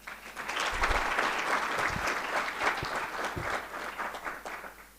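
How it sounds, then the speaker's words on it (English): A conference audience at the 2022 Africa Evidence Summit claps together in a dense, sustained round of applause lasting several seconds, heard at moderate volume with no talking over it. "I think you can give another clap for her."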